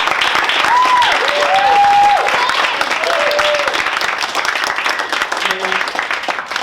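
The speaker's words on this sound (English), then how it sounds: "Let's give the candidates a round of applause." A student audience claps for the candidates at the end of a student assembly presidential debate, a dense round of applause that tapers slightly toward the end, with brief tones and a voice faintly heard over it.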